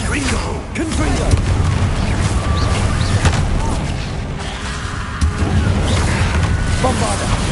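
Confringo fire spell explosions in Hogwarts Legacy, a dense, loud stretch of booming blasts and rumbling impacts over continuous game noise, with a voice talking over it.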